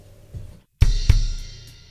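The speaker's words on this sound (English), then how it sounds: "Then all we need to do is add a crash on the 1 of the first bar." Drum kit groove from a song where a brief pause gives way to a loud crash cymbal on the one with a kick, followed by another hit and a shimmering cymbal decay, close and solo.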